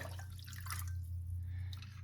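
Water poured into a saucepan of sugar over high heat, a soft steady trickling and dripping that runs the whole time against a low hum, with no voices.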